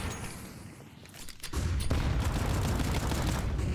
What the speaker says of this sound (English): great flashbang there